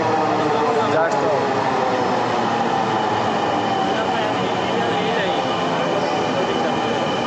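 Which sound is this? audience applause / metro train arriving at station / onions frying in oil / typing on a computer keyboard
metro train arriving at station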